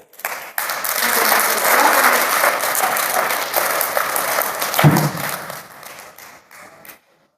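An audience at a Hindi poetry recital claps in a loud burst of applause that swells, holds for several seconds, then thins and stops abruptly, with no talking over it.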